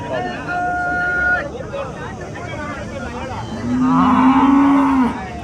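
Cattle low loudly at a weekly cow market in Chintamani, two long moos close by over a busy background of crowd chatter and people talking.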